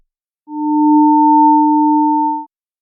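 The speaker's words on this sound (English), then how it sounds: "We can now additionally apply unique ADSR envelopes to each sine wave before summing them." Two steady sine tones synthesized in Python and summed, each shaped by its own ADSR envelope, swell in quickly, hold for about two seconds, then drop away cleanly against silence.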